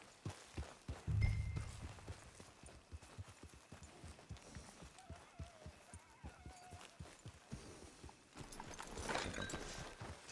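Horse hooves clip-clop at a walk in the Western video game Red Dead Online, a steady rhythmic series of close, moderately quiet hoofbeats with a brief snort or whinny early on and no talking.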